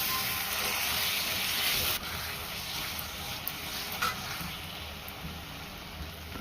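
Cauliflower curry with spices such as chili powder and garam masala frying in a pan, giving a steady close-up sizzling hiss that eases slightly after a couple of seconds and then continues evenly.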